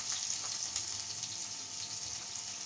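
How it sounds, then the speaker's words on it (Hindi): Onion fries in hot oil with a bright, constant crackling sizzle, close and fairly loud, with small pops scattered through and no talking. "अब मैं इसके अंदर डाल दूँगी प्याज"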